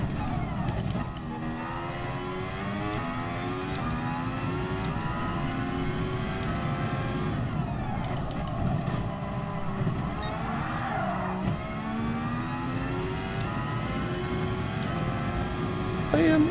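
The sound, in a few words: racing car driving and braking, from a PS4 racing video game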